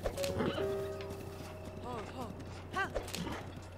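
Horses trot and whinny in The Legend of Zelda: Breath of the Wild, with rhythmic hoof clip-clops and several rising-and-falling neighs over steady game ambience, a player talking alongside.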